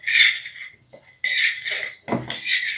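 Clattering and scraping of a utensil against a bowl comes in three bursts, close and fairly loud, with no talking.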